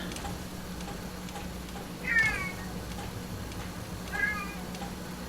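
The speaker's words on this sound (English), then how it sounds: "I've got a cat wanting her food, so I better give it to her" A pet cat meows for her food, two separate plaintive meows a couple of seconds apart, moderately near, over a steady low electrical hum and faint background noise.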